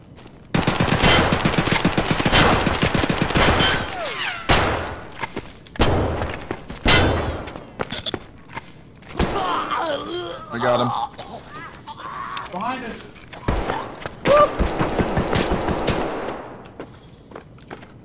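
Full-auto gunfire in the video game Escape from Tarkov, with long and short bursts of rapid shots plus scattered single shots, while players talk over the action.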